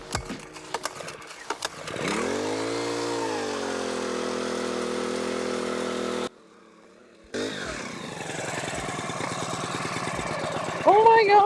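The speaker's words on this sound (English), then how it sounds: "I can't believe you run a propane auger." A propane ice auger engine starts with a sputter and then runs at a steady, droning idle close by, briefly cutting out before roaring back.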